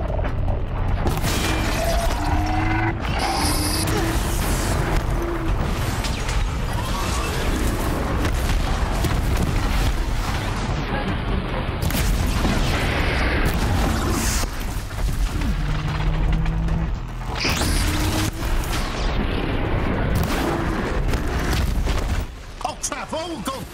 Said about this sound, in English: Who's that shell walker firing at?